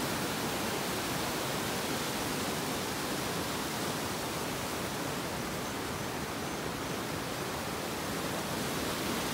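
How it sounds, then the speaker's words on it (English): A waterfall in a mountain valley with glaciers pours as a steady, broadband rushing hiss, unbroken and moderately loud for the whole stretch, with no voices. "That waterfall's wicked."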